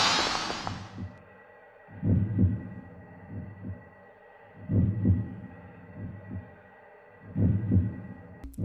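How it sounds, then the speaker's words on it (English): A faint, low heartbeat throbs in a dark, eerie chamber atmosphere in the Custom Robo video game, pulsing in slow paired thumps about every couple of seconds over a steady ambient hum, with a brief whoosh at the start. "Faint heartbeat can be heard"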